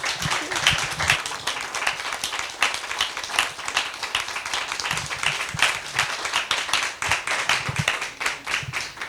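An audience gives a final round of applause for speaker Sylvie Brieu at a talk on Americana, with many hands clapping steadily throughout at moderate loudness and no voices over it.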